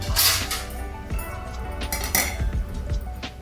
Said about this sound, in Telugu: ఇప్పుడు సిమ్లోని మనం మూత పెట్టేసుకుందాం